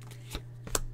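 Psychic Tarot Oracle cards are shuffled by hand in two quick, soft riffling bursts over a steady low hum, close to the microphone, with no talking.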